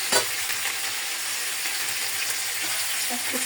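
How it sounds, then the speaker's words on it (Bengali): A whole chicken fries in oil in a frying pan, giving a steady, even sizzle close by with a brief knock at the start and no talk. "সেজন্য ফ্রাই প্যানে আর কি ভাজা আর তেলে নিয়ে এই পিঠটা হয়ে গেছে"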